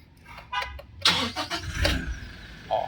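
A Toyota Innova engine cranks and catches, then settles into a quiet, smooth idle close by, with a brief click near the end.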